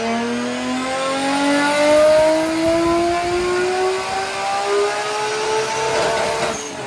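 A Formula Drift car's engine revs on a dyno, one loud continuous tone climbing steadily in pitch over about seven seconds, close and sustained.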